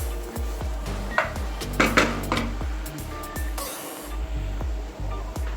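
Ingredients for a Punjabi chicken curry sauté in a hot pan with a steady sizzle, broken by repeated close knocks and scrapes of a utensil against the pan and a few brief louder hissing bursts.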